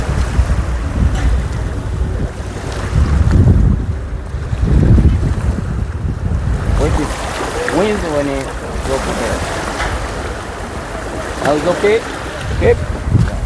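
A small boat is pushed off a sandy shore near Prison Island, Zanzibar, with steady wind buffeting the microphone and surf washing nearby, and voices talking intermittently over the rustle.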